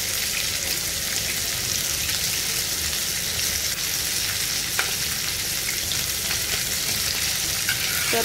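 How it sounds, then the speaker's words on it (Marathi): Butter sizzles on green tandoori chicken, a dense, even crackling hiss that carries on steadily at close range, with a few faint pops. "हे बघा, वरून बटर टाकायचं आहे."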